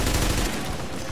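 An enemy turret fires during a hard-mode incursion in The Division, producing a dense, loud burst of rapid automatic gunfire that fills the brief moment.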